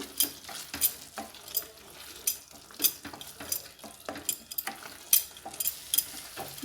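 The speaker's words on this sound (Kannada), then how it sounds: "ಸ್ವಲ್ಪ ಇದನ್ನು ಹಸಿ ವಾಸನೆ ಹೋಗೋ ತನಕ ನಾವು ಇದನ್ನು ಚೆನ್ನಾಗಿ ಬಾಡಿಸ್ಕೊಳ್ಳೋಣ" Bottle gourd masala being sautéed in a pan, with a spoon scraping and knocking against the metal in irregular bursts over a low, steady sizzle, heard close with no voices.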